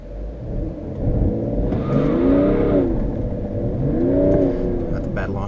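BMW E90 335d diesel launching hard with traction control off, engine rising in a loud revving surge that dips and climbs again through a gearchange, heard from inside with a voice speaking over it.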